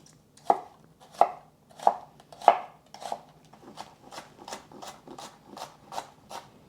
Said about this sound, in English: I am using about a quarter of an onion. And we're just going to chop this up.